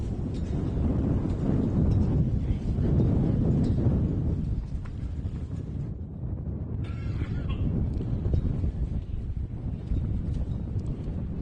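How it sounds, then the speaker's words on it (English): Strong wind buffets the microphone at a short-course off-road race track in a continuous rumbling roar, gusting louder and softer throughout. "It is so windy"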